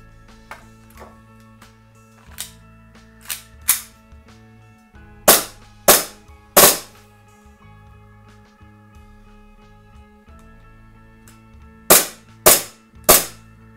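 Sharp airsoft gas pistol shots from a WE XDM 3.8 compact crack out in scattered bursts of two or three, loud and close, over a low background hum.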